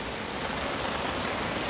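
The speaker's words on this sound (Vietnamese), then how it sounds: "Mưa tạt quá." Heavy rain blows in during a windy storm, a dense, steady roar of drops beating on surfaces close at hand with no pauses.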